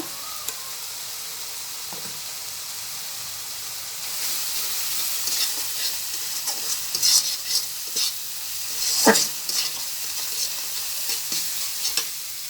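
Half a spoon of chili powder stirred and fried in hot oil for a baile fish curry with tomato, a constant sizzle with intermittent spoon scrapes that grow busier and louder in the second half.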